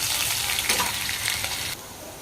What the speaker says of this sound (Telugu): ఎర్రగడ్డలు అయితే కొంచెం దూరగా వేగుతున్నాయి కదా